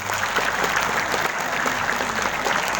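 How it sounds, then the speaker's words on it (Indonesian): Steady applause from an audience at an Islamic religious lecture in Indonesia, dense continuous clapping that stays even and fairly loud throughout with no voices over it. "Tepuk tangan untuk kaum ibu dan kaum wanita."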